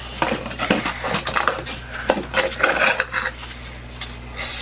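Watermelon sugar lip scrub container being opened, with close, light clicks, taps and scraping of the lid over a low steady hum.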